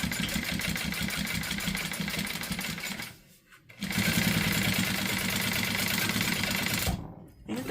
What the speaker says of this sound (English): we are going to do an 1/8 of an inch top stitch